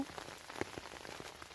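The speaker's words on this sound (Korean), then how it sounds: "빗소리 토닥토닥 소리 들리시죠?" Morning rain patters softly on an umbrella held outdoors on a farm, a dense, faint scatter of drops tapping the fabric with no talking.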